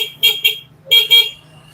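A Benelli motorcycle horn at a dealership in Urdaneta, Pangasinan gives two pairs of short, loud, squeaky-sounding toots close by, a high, slightly strained beep repeated in quick double bursts.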